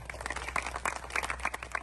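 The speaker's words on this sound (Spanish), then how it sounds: "Con fuerte aplauso" A crowd claps and applauds steadily at a televised event in honour of Rubén Polanco, with dense, fairly soft clapping that carries on for the whole stretch.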